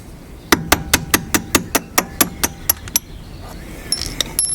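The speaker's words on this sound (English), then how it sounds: "You just need to push the pin through up inside the bumper to release them." About a dozen sharp, evenly spaced metallic taps drive the pin lock connectors up under the front bumper of a Mk1 Skoda Fabia (1999–2007), close and loud, followed by a few lighter clicks.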